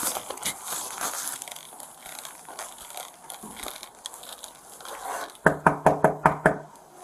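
Police officers knock hard on an apartment front door, a quick run of about seven close, loud raps near the end, following a stretch of rustling and shuffling noise.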